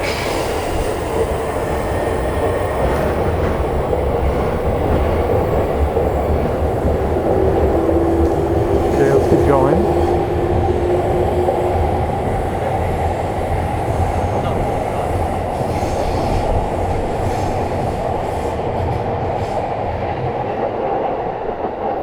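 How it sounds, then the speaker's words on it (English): A loud train rumbles past continuously, with broadband roar and a brief wheel squeal midway; a voice speaks briefly over it. "I always underestimate how absolutely noisy the trains get."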